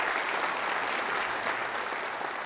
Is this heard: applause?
yes